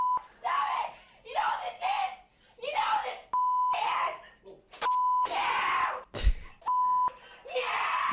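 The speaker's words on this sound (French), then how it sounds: "Il y a beaucoup de bips quand même." Short electronic beeps ring out repeatedly in a video game where a player kills small fawns and faces a deadly poppy monster, each steady tone recurring between bursts of game noise and voices.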